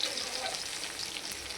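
Semolina-coated fish fries in oil with a steady, close, even sizzle that crackles without letup for the whole moment, and no voices over it.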